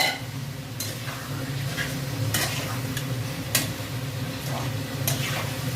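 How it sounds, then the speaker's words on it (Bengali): Potatoes with spices sizzle in a pan as a spoon stirs them, with steady frying hiss and regular scraping strokes, close and continuous. "এবার আলুটা দিয়ে আর একটু কষা হবে।"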